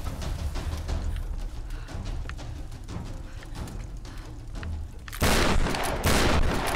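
Gunfire from the video game Tomb Raider 2013 rattles in rapid bursts, with a louder, denser barrage breaking out near the end over a steady low rumble of game sound.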